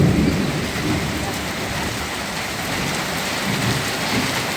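Heavy rain pours down steadily and loudly during a Bangladeshi drama shoot outdoors, a dense continuous roar with a low thundery rumble underneath and no talk.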